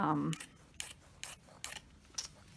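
Scrapbooking scissors with fancy decorative edges snip through fabric in five distinct crisp cuts at a steady rhythm, close and moderately quiet, after a brief bit of talk at the start.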